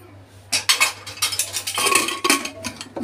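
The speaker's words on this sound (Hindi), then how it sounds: "मैंने कुकर बंद कर दी दोस्तों।" Metal clatter and clinks as a pressure cooker lid is fitted and locked shut in a home kitchen while cooking lotus stem and potato sabzi; several sharp knocks come close together with no talk.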